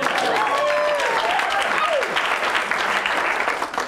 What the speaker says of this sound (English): Everyone, let's give Sal a round of applause for correctly pronouncing Panayotopolous.